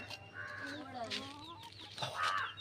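Chickens cluck and call softly at close range, several short bursts of clucking with a faint rooster-like squawk at the end, against quiet background noise.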